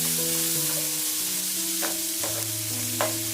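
Spices with ginger and a splash of water fry in a pan for matarshuti kachuri filling, a steady close sizzle with a few scraping stir strokes and a sustained low tonal hum underneath.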